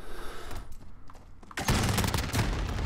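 Striker shotgun blasts in a Call of Duty Modern Warfare match, a burst of loud, close shots with dense crackling reports in the last half, preceded by quieter game ambience.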